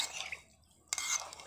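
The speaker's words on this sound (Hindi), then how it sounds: "देखिए इसमें हम 2 गिलास पानी डालकर इसे घोल ले रहे हैं," Rice flour is whisked into two glasses of water for papad batter, giving faint, quick scraping and clinking strokes against the pot with a short pause between bursts.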